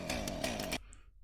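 A chainsaw startup sample in a music production beat: a brief, loud, buzzing motor rev that cuts off sharply after under a second, followed by a fading tail.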